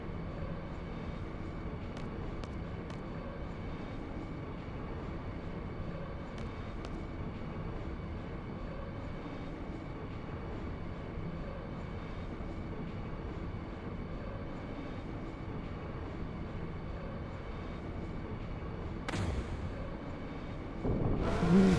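A train in the video game Final Fantasy VIII rolls along its track as a steady, even rumble with a faint whine, continuous and unbroken, swelling slightly near the end.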